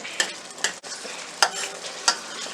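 Makhani gravy with a tablespoon of butter cooks in a pan, giving a steady close sizzle broken by four sharp spoon scrapes at regular intervals, with no voices.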